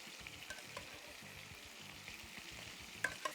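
Penne pasta and its starchy cooking water go into a pan of hot arrabbiata sauce, giving a steady close sizzle and bubbling hiss with a couple of sharp clinks near the end.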